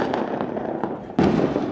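New Year firecrackers pop in a quick series of sharp bangs, several lighter cracks followed by a louder, fuller blast near the end, with no talk over them.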